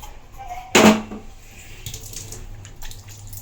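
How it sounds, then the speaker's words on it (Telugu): Water is sprinkled onto a gas stove during kitchen cleaning, one sharp close splash burst near the start followed by quieter faint patters and handling noise. "ఇట్లా నీళ్ళు చల్లుకుంటా"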